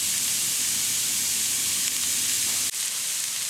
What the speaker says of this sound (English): our onions have been sauteing for about 5 minutes here, and they're starting to get soft